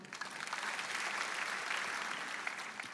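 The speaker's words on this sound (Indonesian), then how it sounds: "Wes, tepuk tangan dong" Church congregation applauding together, a steady even wash of clapping that holds at one level throughout with no voices over it.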